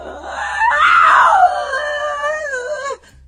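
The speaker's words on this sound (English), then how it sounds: "capturing voices of a woman screaming and screeching loudly." A woman screams and screeches loudly in a CCTV recording from an empty house, one long, rising and wavering wail that holds for about three seconds before cutting off abruptly.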